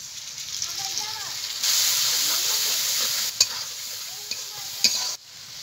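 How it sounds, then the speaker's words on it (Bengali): Chopped onion frying in hot oil in a pan for egg korma, a continuous close sizzle and hiss with stirring scrapes and a few sharp utensil knocks near the end. "পেঁয়াজ কুচিটা ভাজা ভাজা হয়ে গেছে"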